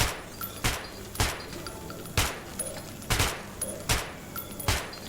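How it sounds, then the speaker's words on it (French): Separate gunshots on a shooting range in Metro 2033, about six sharp, evenly spaced reports, loud and close over a low ambient hum, with no talking. "N'hésite pas à essayer ton arme sur mon champ de tir."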